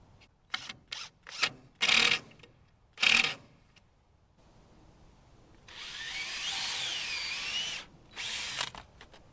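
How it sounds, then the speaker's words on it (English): A power drill whirs in several short bursts, then pre-drills into an old wood board for a longer, grinding stretch, close and fairly loud with pauses between. "I'm just pre-drilling the hole"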